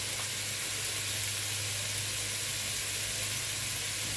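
Shrimp and crab sauté with spices in a pan, a steady close sizzle and hiss that holds evenly throughout with no voices.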